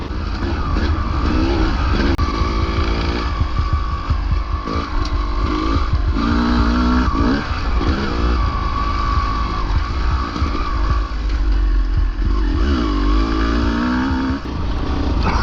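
A dirt bike engine drones and revs while being ridden, its buzzy tone rising and falling through throttle changes, loud and close throughout.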